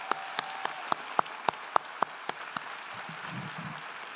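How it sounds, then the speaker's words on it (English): Sharp, evenly spaced claps ring out roughly four times a second at a college commencement, then thin out and stop, leaving a quiet hall. "Let's give him another round of applause."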